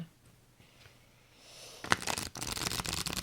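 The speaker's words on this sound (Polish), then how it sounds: "Zastanawiam się, jak się je będzie tasować." Stiff, hard-paper Thelema tarot cards are shuffled up close, giving a dense, riffling flutter that builds and continues after a soft rustle of handling, with no talking.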